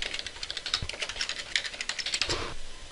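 Close, quick typing on a computer keyboard, with a rapid run of crisp key clicks in an uneven rhythm that slows near the end.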